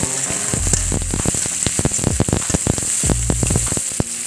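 Chopped onion and tomato fry in mustard oil in a wok, with a steady close sizzle and crackle broken by repeated low scraping and stirring strokes.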